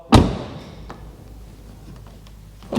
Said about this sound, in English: But then you shut the door